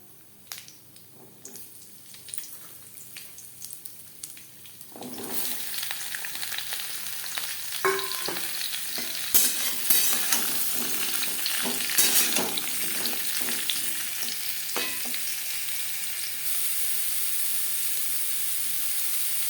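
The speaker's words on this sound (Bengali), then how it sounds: "সবার প্রথমে আমি পেঁপে হালকা করে ভেজে নেব।" Papaya pieces frying lightly in refined oil: a quiet stretch, then a loud sizzle bursts up as they go in and keeps hissing, broken by a few stirring clatters.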